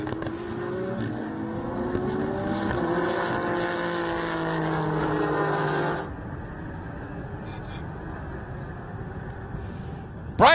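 GT race cars including a Ferrari racing at Circuit of the Americas in the Pirelli World Challenge, engines wailing and rising in pitch for several seconds under commentary, then fading to a distant drone.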